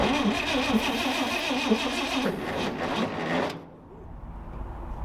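A Chevy Apache pickup truck's engine cranks over on a replacement starter, a steady loud churning rhythm that runs for several seconds and then cuts off abruptly, leaving a quieter hum.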